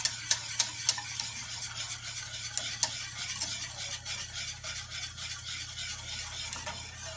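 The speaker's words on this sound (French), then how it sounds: "Pour remuer pour pas que le lait colle et qu'il brûle au fond de la casserole." A spoon stirring milk and sugar as it heats in a saucepan, steady scraping and swishing strokes over a soft continuous sizzle, with a few sharper clinks near the start and a low hum beneath.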